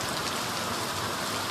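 Steady evening rain pours down near Ujjain, a dense, continuous hiss of drops hitting surfaces, loud and close with no let-up and no voices.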